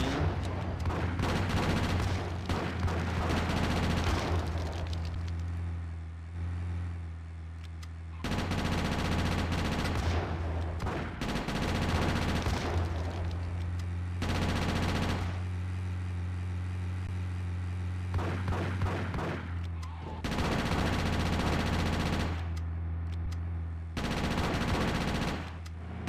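Gunfire in GTA: Chinatown Wars, aimed at a van: loud, dense bursts of rapid shots in several volleys with brief pauses between them, over a steady low game hum.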